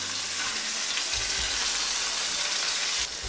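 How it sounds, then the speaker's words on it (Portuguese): Beef liver hitting already-sautéed onions in a hot pan gives a steady, bright, hissing sizzle that stays loud and close throughout, with a light stirring scrape and no talk. "Com a nossa cebola já refogada, chegou a hora de acrescentar o fígado"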